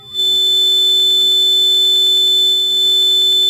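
A steady, pure electronic test tone of about 3.5 kHz from an LM386 amplifier sounds loud and unbroken after a quick onset, holding one high pitch throughout.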